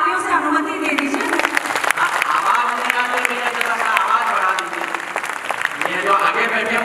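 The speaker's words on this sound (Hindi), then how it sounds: "एक बार मुझे तालियों से अनुमति दे दीजिए।" A live stage audience at a humorous poetry event in Udaipur breaks into steady applause that holds through the whole stretch, with crowd noise and a voice talking over it.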